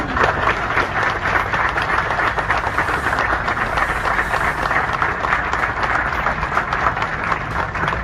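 A ceremony audience bursts into sustained applause, dense and even clapping from a large crowd lasting throughout, loud and close.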